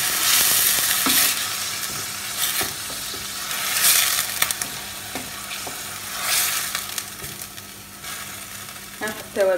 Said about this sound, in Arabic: راح نقلي البصل منه